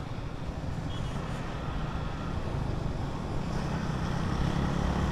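Three motorbikes riding together on the road to Sajek Valley, a continuous low engine and road rumble with wind noise, steady and close.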